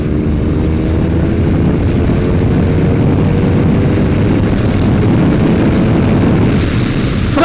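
BMW R 1250 R motorcycle accelerating in sixth gear from low revs in town, its engine drone loud and steady under heavy wind rush, with no talk.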